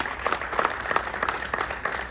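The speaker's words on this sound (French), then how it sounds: "Je voudrais qu'on applaudisse aussi pour Khadija" An audience at a Superwoman tour event in a Canal Olympia cinema hall gives a steady round of applause, dense clapping filling the whole short stretch at moderate loudness.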